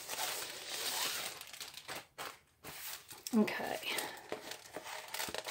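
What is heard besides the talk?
plastic bag crinkling as diamond painting kit is opened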